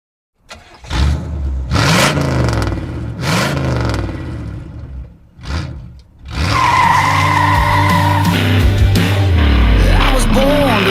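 A V8 Range Rover Classic with permanent four-wheel drive drives hard off road, its engine revving loudly in surges with tire skids, then a sustained roar over the final seconds, with some voice audible.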